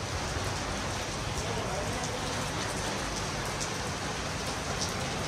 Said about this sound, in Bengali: দেখতে পাচ্ছ কত জোরে বৃষ্টি হচ্ছে